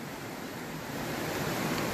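Water swirling in a small whirlpool in Gold Brook beside a covered bridge, a steady broadband rush that swells slightly toward the end, with no talking.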